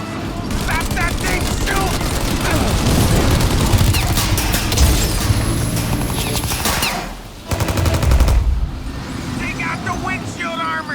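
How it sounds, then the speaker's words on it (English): Gunfire in the video game Mafia Definitive Edition: dense bursts of shooting and impacts fill the scene almost continuously, loud and close, mixed with shouted speech and a brief lull near the end before more firing. "Shoot the guy! Shoot now while we got the chance!"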